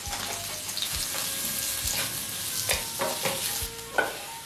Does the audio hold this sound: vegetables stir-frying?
yes